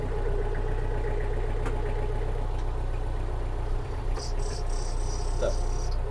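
A Mitsubishi MT-265 Japanese mini tractor engine idles with a steady low rumble that stays even throughout, with a few faint clicks and a light high-pitched hiss on top.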